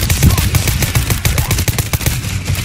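Rapid, loud, close gunfire from a World War Z zombie shooter, a fast string of sharp repeated shots with a few brief gaps.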